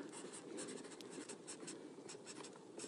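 Marker writing and drawing on a board during a wildlife talk about ruminant animals, a steady stream of close scratchy squeaking strokes with short pauses, no voice heard.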